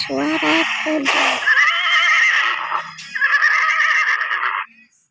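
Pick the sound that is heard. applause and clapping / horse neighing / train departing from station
horse neighing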